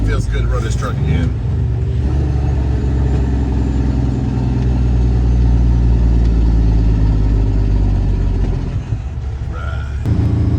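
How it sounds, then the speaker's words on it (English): A truck's engine rumbles steadily while driving, a loud low drone with mid-range engine tones, briefly dipping near the end; someone talks over it at the start. "And it feels good to run this truck again."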